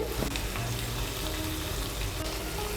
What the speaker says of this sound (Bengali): আলুগুলোকে মশলার সঙ্গে আর একটু ভালো করে কষিয়ে নেব